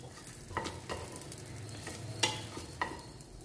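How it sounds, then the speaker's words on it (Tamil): Garlic sautéing in butter for green peas soup, a close steady sizzle punctuated by several distinct stirring scrapes, with no voices. "இந்த நல்லா நம்ம இந்த வெண்ணெயில் கொஞ்சம் வதக்கிக்கலாம்"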